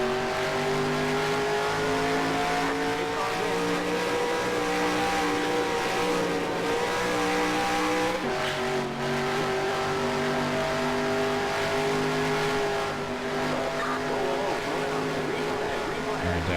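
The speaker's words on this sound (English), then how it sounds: "Just try to pass all the other Danicas" Race cars in the NASCAR Racing 2003 video game, with a continuous loud, droning engine roar from a pack of cars that shifts pitch midway and holds steady to the end, heard alone.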